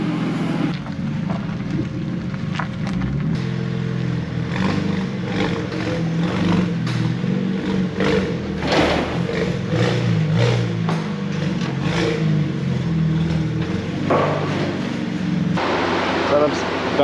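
A tuned car revs hard on a dyno run, its engine droning loud and steady for the whole stretch with surging rises, while people talk over it.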